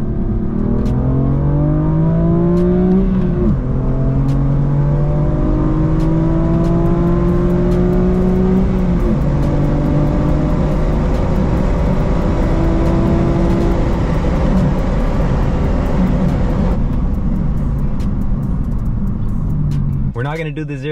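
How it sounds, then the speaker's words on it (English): Manual stock BMW M4 Competition F82 accelerating hard in a 60-130 run from inside the car, loud engine climbing in pitch through several gear changes with brief drops at each shift, with a voice speaking over it near the end. "It's gonna be the second practice run. Starting at around like 45, 50."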